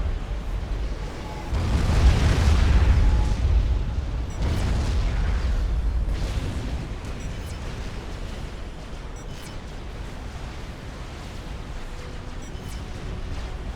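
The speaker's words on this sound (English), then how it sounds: "I think this Maver, yeah, that Maver's firing on Kraz's, aiming for those PGNs." Mavor artillery fires in the video game Supreme Commander: Forged Alliance, with deep booming blasts rumbling up around two and five seconds, then a long low roar of battle fading under steady background noise.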